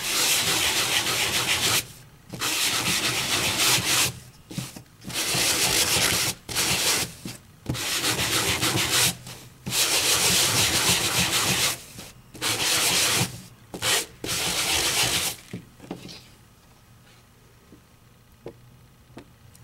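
Sanding block rubbing across heat-embossed cardstock stenciled with Memory Box stencils, a loud steady scratchy scrape in bursts of back-and-forth strokes separated by short pauses, trailing off into near silence at the end.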